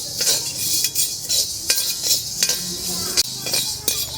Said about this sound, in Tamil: மிளகு நல்லா வறுபட்டுருச்சு